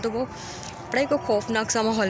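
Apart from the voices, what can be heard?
No everyday noises stand out.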